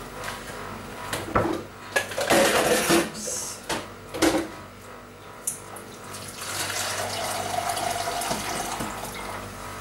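Tap water runs into a sink while jugs are washed, with knocks and clatters of handling early on, then a steady continuous stream of running water through the second half, close by and moderately loud.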